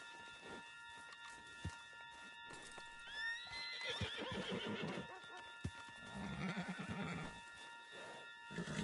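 A horse in the video game Red Dead Redemption 2 whinnies in a rising, wavering call, with hooves clip-clopping and low rumbling game sounds around it, no speech.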